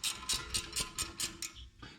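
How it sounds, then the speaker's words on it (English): A 16mm extra-long gear wrench ratchets on a 2010 BMW 328xi E92 brake caliper, giving about six quick, evenly spaced metallic clicking bursts up close, with a slight pause near the end. "So I'm using a 16mm gear wrench"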